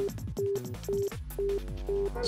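A ringing phone in the video game Virtue's Last Reward, with repeated steady electronic ring tones in short bursts over background game music.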